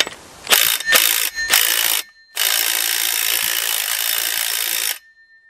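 A ratcheting tool works at the clutch of a Husqvarna 281/288 chainsaw under restoration. It gives three short, sharp buzzing bursts, a brief gap, then one longer continuous whir, all loud and close with no talk.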